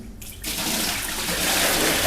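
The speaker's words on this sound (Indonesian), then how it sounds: "kita buang dulu airnya" Water from washing clothes poured out in a sudden gush that starts after a brief pause and continues as a steady close splashing stream to the end.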